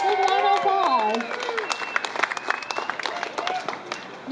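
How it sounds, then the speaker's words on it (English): Audience applause at a restaurant's grand opening ceremony, Tokyo Table's Alhambra store: a voice speaks at first, then scattered, uneven claps patter on at moderate distance and thin out toward the end. "Let's give it a big round of applause."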